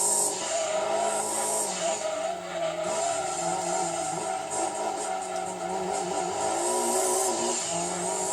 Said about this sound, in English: listen to this car, you guys